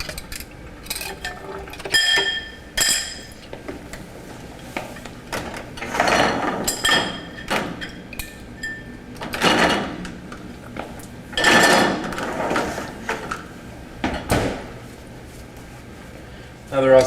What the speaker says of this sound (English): And now I'm going to take this and put it in the dishwasher.